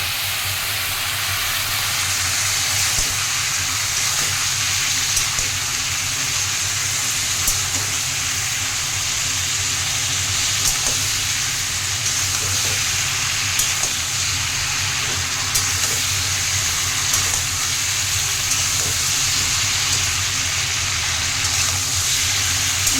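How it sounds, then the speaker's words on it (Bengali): Spice paste fries with a splash of water in a pan for a potol, potato and rohu fish curry, giving a steady, loud, close hiss and sizzle that runs unbroken throughout. "একটু জল দিয়ে মশলাটা কষিয়ে নিই।"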